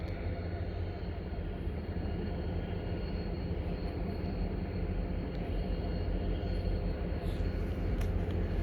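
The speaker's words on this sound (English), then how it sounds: "Yeah, I'm pretty sure there's a train coming." A train rumbles steadily past at the Pointe St. Charles rail yard in Montreal at dusk, a continuous broadband roar of wheels and cars with faint squeals toward the end.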